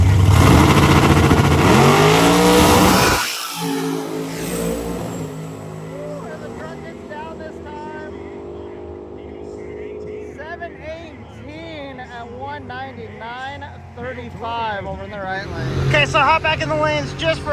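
A big nitrous drag car and a Ford truck launch at a drag race, with a loud engine roar that drops away, then revving and engine noise from the strip under steady talk.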